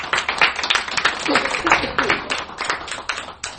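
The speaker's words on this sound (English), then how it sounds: "could you please give a round of applause to Bob Boucher?" Veterans at a coffee house gathering give a round of applause for Bob Boucher, scattered clapping from a modest crowd with voices mixed in throughout.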